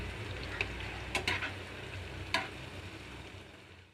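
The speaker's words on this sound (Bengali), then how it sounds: "পেঁয়াজ কুচি ও রসুন বাটা একসাথে আমরা ভেজে নিচ্ছি" Chopped onion and garlic paste frying together in a pan sizzle softly and steadily at low volume, with a few light scraping or stirring clicks, fading toward the end.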